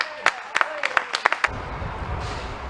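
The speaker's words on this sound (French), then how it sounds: "Bravo Jane, on peut l'applaudir." Theatre audience claps for a performer after a stage piece, a scattering of sharp individual claps that swells into a brief blended round of applause, following a spoken line.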